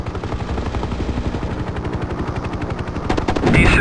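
Rapid helicopter cannon fire from a gunship in Hind 1998, a loud, dense, continuous burst of machine-gun rounds with a brief heavier blast near the end.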